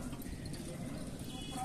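Hooves of mares clip-clopping as they are unloaded from a vehicle, a soft steady patter close by with a busy background.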